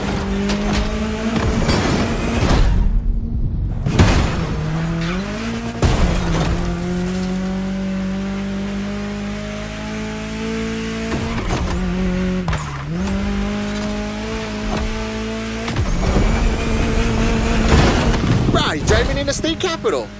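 Car driving through the state capital in the game The Crew Motorfest, a loud engine revving and shifting through gears with repeated tire squeals on turns, while a voice talks over the driving.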